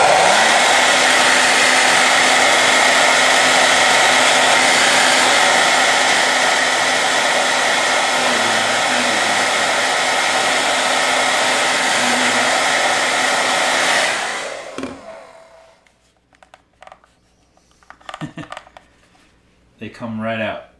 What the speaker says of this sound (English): let's see what happens with a heat gun